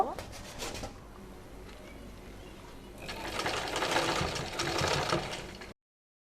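A sewing machine stitches the side seam of a kameez, running in a continuous close whir that grows louder and busier in its second half before cutting off abruptly.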